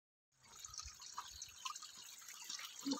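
Mountain spring water in a Deodar forest near Devalsari, trickling and splashing steadily from a spout, a continuous close wash of falling water with no voices.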